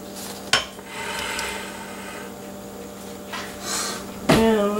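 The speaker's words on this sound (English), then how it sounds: "Looking for my little wooden spoon" Someone rummages through kitchen utensils hunting for a wooden spoon, producing a couple of sharp metallic clanks and rattles with quieter shuffling between them, close by and without speech.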